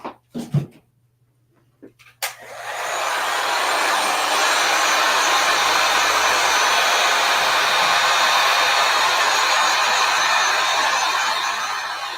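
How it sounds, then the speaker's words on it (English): After a few sharp clicks, a heat gun starts and blows to dry paint, with a steady, loud whooshing roar that continues unbroken to the end. "let me hit that with the dryer really quick. I mean the heat gun."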